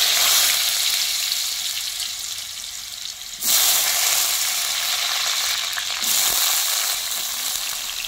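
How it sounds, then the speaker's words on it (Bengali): Potatoes fry in hot white oil in a wok, giving a steady, loud, close sizzle. The bubbling crackle runs on without a break and briefly dips and surges twice. "তেল গরম হয়ে গেছে, এবার আমি আলুগুলো ভেজে নেব"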